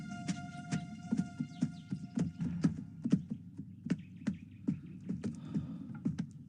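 A horse's hooves clop in a steady rhythmic series of sharp thuds over a low background hum, with no talking.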